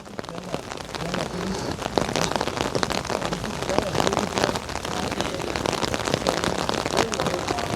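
Steady rain falling outdoors at Tel Hebron, a dense close patter of drops hitting surfaces without pause, with a voice speaking intermittently underneath.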